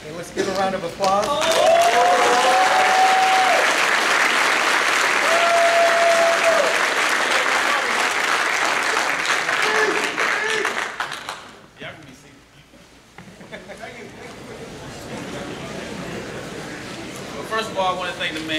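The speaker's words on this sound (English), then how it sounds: "Okay, let's give a round of applause." Sustained applause from an audience at a military promotion ceremony to captain, loud and dense for about eleven seconds, with a few voices and whoops mixed in, then fading as a speaker begins talking.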